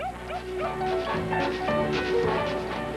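A terrier barks and yips repeatedly in short bursts, close and fairly loud, with some whimpering tones mixed in.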